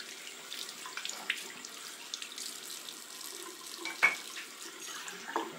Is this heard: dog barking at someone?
no